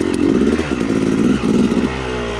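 A dirt bike engine revs hard and close, a loud raspy buzzing with repeated throttle blips and slight dips, heard alone without talk.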